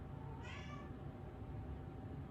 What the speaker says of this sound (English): There's my cat again.